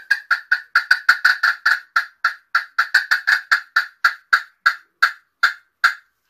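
A handheld turkey call imitates a gobbler with a rapid run of about twenty-five sharp, bright cutting notes. The notes bunch together at first, then spread out and slow toward the end, loud and close with no talk.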